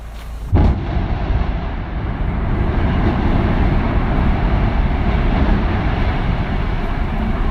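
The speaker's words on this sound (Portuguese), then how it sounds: "Essa demolição perfeitamente controlada mostrou o trabalho minucioso dos especialistas em explosões" A sharp blast from a controlled building demolition hits early, then a deep, sustained rumble rolls on for several seconds as the structure collapses.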